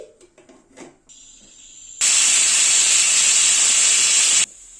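A pressure cooker holding banana stem cooked in salted water hisses steam loudly and steadily for a few seconds after some quieter kitchen noise, then cuts off abruptly.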